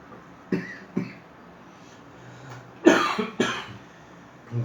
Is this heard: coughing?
yes